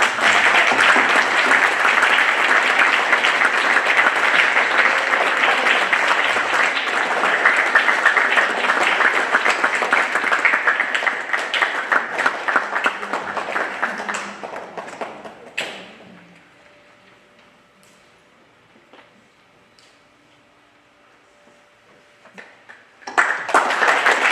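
Loud, sustained audience clapping after an arangetram dance performance fills the hall for about fifteen seconds, then fades to near silence before a brief burst of sound returns at the end.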